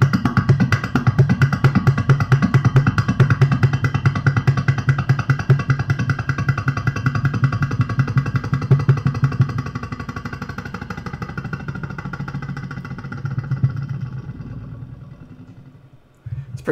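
A homemade spring-piezo electric drone instrument gives a continuous buzzing, whirring drone with a fast fluttering pulse like a helicopter, steady and fairly loud, fading away near the end; no voices.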